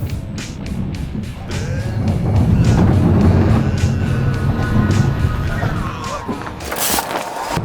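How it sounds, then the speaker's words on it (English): Rattenmühle family roller coaster at Familypark Austria: the train rumbles and rattles along the track, swelling louder mid-ride over steady wind and mechanical clatter, with riders' voices faintly mixed in. "It was our favourite roller coaster of the park."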